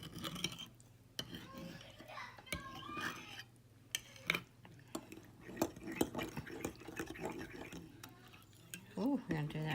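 Gravy mixture is stirred in a small mixing cup with soft, quiet scraping and dripping taps, faint and irregular, alongside occasional low murmuring.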